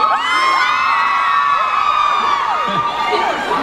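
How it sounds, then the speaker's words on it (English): A large crowd of fans screaming and cheering, loud, high-pitched and sustained, filling the space. "everybody's screaming anyway"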